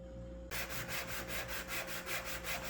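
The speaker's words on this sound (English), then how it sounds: "Gently sanding it here." Hand sanding on a wooden model boat starts abruptly, then continues as steady back-and-forth rubbing strokes, about four per second, close and fairly loud.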